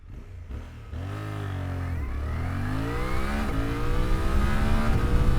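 A 2025 Suzuki V-Strom 800RE motorcycle engine accelerating hard through second gear, its steady rising drone climbing in pitch after a quick shift, close and loud, with wind rush underneath.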